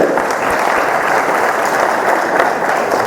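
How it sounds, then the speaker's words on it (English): Sustained applause from an audience at a New Hampshire congressional candidate forum, dense steady clapping filling the room for about three seconds. "A big round of applause for our volunteer, Phil"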